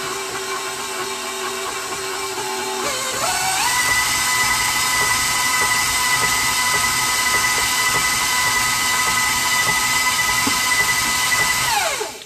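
Electric mixer beating butter and cream cheese for carrot cake icing, a loud steady whirring motor that steps up in speed early, runs continuously, then winds down at the end.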